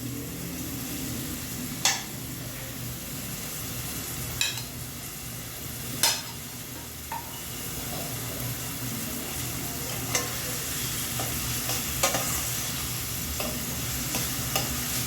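Onion fries in a pan for prawn pulao, a steady close sizzle with occasional sharp scrapes and clinks of stirring.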